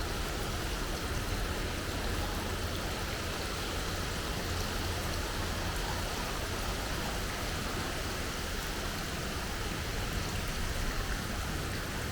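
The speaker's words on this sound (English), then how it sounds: "This is Beargrass Creek" A creek rushes steadily, a constant broad hiss of flowing water with no pauses and no voices, at Beargrass Creek in Cherokee Park, Louisville.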